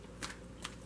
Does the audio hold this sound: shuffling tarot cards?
yes